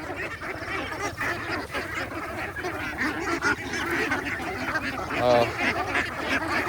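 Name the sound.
ducks quacking while eating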